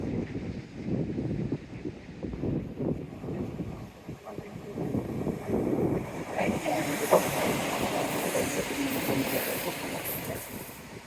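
A train with steam specials rumbles past with rhythmic wheel clatter and hissing, the noise shifting toward higher squeals and clicks as it moves on.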